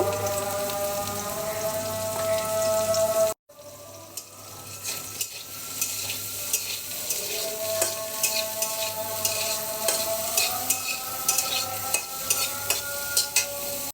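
Soybean chunks seasoned with salt and turmeric fry in hot oil in a pan, a loud steady sizzle broken by a short cut, then continuing with repeated clattering stirs.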